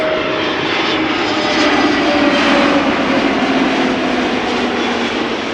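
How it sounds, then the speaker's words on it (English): An EasyJet Airbus A320neo arriving from Birmingham passes with a loud, sustained jet engine whine and roar that swells slightly midway, heard alone with no talking. "EasyJet A320 Neo. Arriving from Birmingham."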